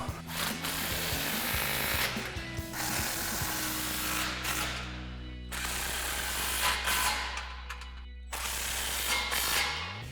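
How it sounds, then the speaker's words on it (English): A power tool tightens the exhaust muffler clamps on a Silverado 2500, with several loud bursts of rattling impact-wrench hammering separated by short pauses, close and without talk. "now we can just tighten our 2 clamps on the back of the muffler"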